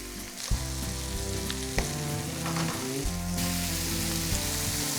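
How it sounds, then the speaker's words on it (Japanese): Eggplant frying in hot oil for a yuzu-kosho green curry, a dense crackling sizzle with a couple of sharp pops and bumps, close and steady. "ナス入れるとね、ナスが油吸ってくれるんで跳ねなくなるんです。"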